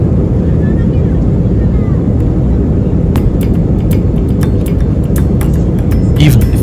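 Airport ambience at Stuttgart Airport with aircraft noise: a loud, steady low roar fills the air, with scattered light clicks and taps appearing toward the end.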